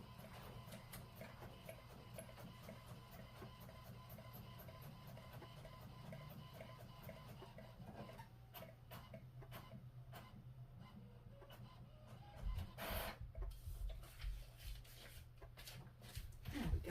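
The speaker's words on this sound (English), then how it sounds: "we'll just do print and see if that works" A home printer works through a page at a craft retreat, a faint steady whir with clicking mechanical ticks, then louder feed clunks toward the end.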